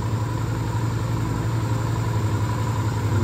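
A 2001 Yamaha XV 125 Virago carbureted motorcycle engine idles steadily, a low even rumble with a faint high whine, close by and unchanging throughout.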